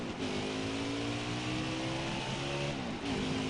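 NASCAR race cars rev at Charlotte Motor Speedway in NASCAR Heat 5, a steady, loud engine drone rising in pitch through several gear changes, unbroken for the full stretch with no voices.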